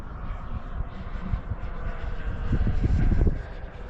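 A T-7A jet trainer flies with a steady engine roar mixed with wind buffeting. The noise swells briefly louder before settling, with no talk.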